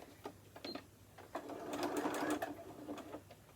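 A sewing machine running a close zigzag satin stitch, its needle whirring in short starts then a sustained buzzing run of about a second, close and fairly quiet with small clicks around it.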